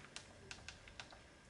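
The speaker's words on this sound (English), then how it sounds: "when I start typing" Keys clatter on a small chat pad keyboard attached to a 3D printed Raspberry Pi mini console, with several light, irregular taps close by and quiet, with no voices.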